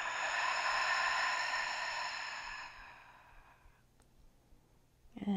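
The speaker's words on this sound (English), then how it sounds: "Open mouth exhale." A long, breathy open-mouth exhale during a gentle yoga breathing exercise, soft and close, fading over a few seconds into quiet before a small rustle at the end.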